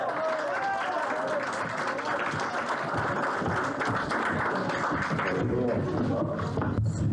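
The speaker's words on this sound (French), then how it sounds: "il est arrivé, on l'applaudit, merci" An audience at a community event applauds as an MP arrives, with steady, dense clapping filling the room throughout and a murmur of voices mixed in beneath the applause.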